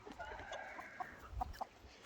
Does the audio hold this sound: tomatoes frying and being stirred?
no